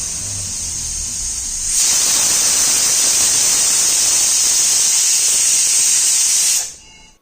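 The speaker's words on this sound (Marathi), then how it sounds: "कमीत कमी मी 3 ते 4 शिट्ट्या कुकरच्या करून घेणार आहे" A pressure cooker boiling potatoes vents steam in a loud, steady high-pitched hiss that swells after a moment, holds for about five seconds, then cuts off abruptly.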